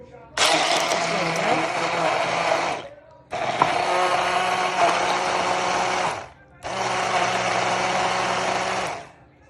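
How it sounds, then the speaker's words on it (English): Immersion blender pureeing mangoes, three loud whirring bursts with short pauses between, the motor pitch shifting slightly as the fruit breaks down. "So I'm gonna start off by pureeing this mangoes right now with the immersion blender."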